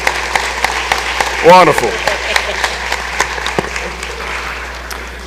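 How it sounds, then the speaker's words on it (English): Applause fills a Mississippi House chamber during a floor session: dense, steady clapping from a roomful of people that holds for several seconds, with a voice speaking briefly over it. "Everybody give her a round of applause."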